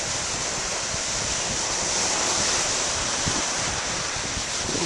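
Ocean waves breaking on a beach, a loud continuous roar of surf mixed with strong wind buffeting, steady throughout with no speech.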